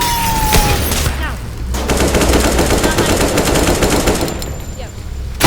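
Loud automatic gunfire in the video game Teardown during a police chase: sustained rapid bursts rattle for several seconds, with a few separate shots before and after.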